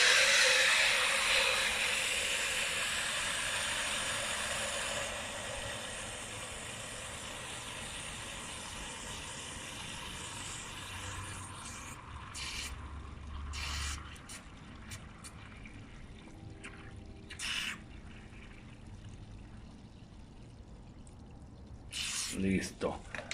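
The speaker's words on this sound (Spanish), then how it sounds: "Vamos a ver ahora cómo sale la agüita" Water pours and trickles out of a container during a hydrodynamics flow experiment, a steady broadband rush that slowly fades, followed by scattered drips and small splashes; voices speak faintly in the background.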